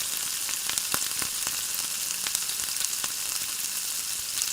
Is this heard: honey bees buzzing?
no